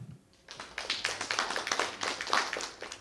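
A short burst of applause from an academic conference audience starts after a brief pause and continues steadily, many hands clapping together.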